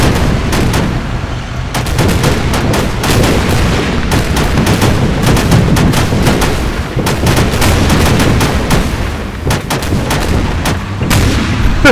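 Grenade machine gun fire in the Arma 3 video game: a steady, loud, rapid train of thumping launches and booming impacts lasting throughout, with no talk.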